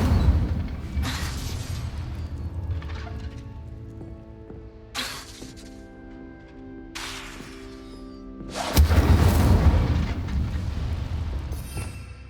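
An Incendio fire spell erupts in Hogwarts Legacy in repeated loud whooshing bursts of flame. Booming impacts and ringing tonal layers follow, with the strongest blast late and trailing off into a rumble.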